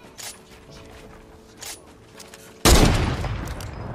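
A silenced SMG opens up in Fortnite: after a few quiet clicks and rustles, a sudden loud burst of rapid gunfire erupts and keeps rattling to the end.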